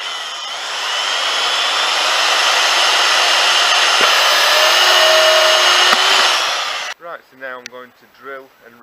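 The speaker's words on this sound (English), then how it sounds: "we just need to cut a hole for the white pipe to come out through it. And we'll do that with a hole saw." A loud, steady power-tool whine runs for several seconds as a hole saw cuts through a lid, then cuts off abruptly and a voice begins speaking.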